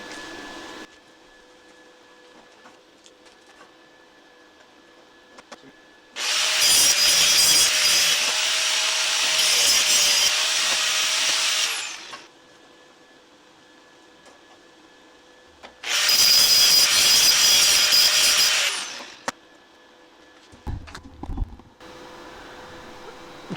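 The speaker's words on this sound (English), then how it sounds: "Using a grinder." An angle grinder works on metal storage framing under a skoolie school bus in two loud sustained bursts of roughly six and three seconds, separated by a quieter stretch with faint background hum.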